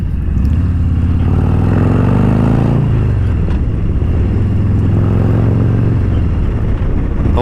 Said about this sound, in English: riding a motorcycle